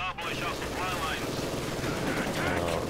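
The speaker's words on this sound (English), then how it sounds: "they walk once again into MG fire" Continuous machine gun fire in a strategy war video game, a dense rattling wall of rapid shots running steadily throughout, loud and close.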